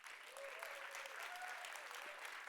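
An audience applauds a speaker at a World Food Day panel, brief and fairly quiet, with voices murmuring underneath.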